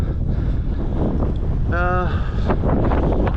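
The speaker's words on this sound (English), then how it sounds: "A bit windy" Steady wind buffeting the microphone on a sandy road with a low roaring rumble throughout, and a brief voice breaking through partway.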